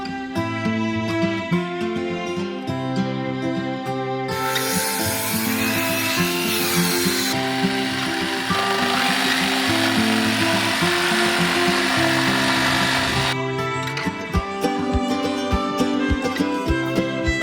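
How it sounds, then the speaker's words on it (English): A power saw cuts timber furrings for a flat roof, its loud steady whine rising into a harsher, brighter rasp for several seconds while blade bites the wood, then easing back to the running tone, with no talking. "the furrings are being cut which will enable the slope required for drainage of the roof into the gutter"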